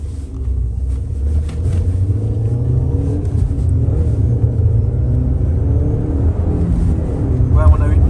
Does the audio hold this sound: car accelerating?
yes